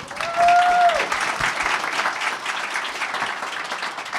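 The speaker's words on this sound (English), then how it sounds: "let's give them a round of applause" An audience gives a panel on underground culture and activism a warm round of applause, a loud, steady rush of many clapping hands, with a brief whistle-like tone rising over it early on.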